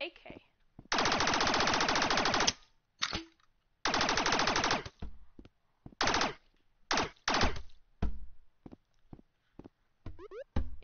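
Bursts of automatic AK rifle fire in the Rec Room video game: two long sustained volleys, then several shorter bursts and single shots, loud and close, with brief gaps of quiet between them.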